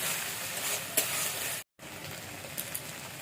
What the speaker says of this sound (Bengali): একে একে সমস্ত মশলাগুলো দিয়ে দেবো। এবার এটাকে একটু কষিয়ে নেব।